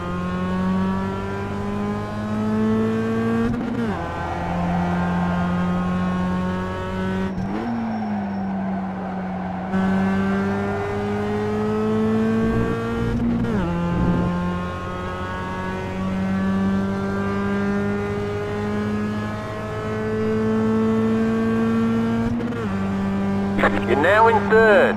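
Mazda Cup race cars in iRacing at Okayama, engines droning loud and close, revving up in long rising sweeps and dropping sharply at each gear change, with a voice talking over them at times.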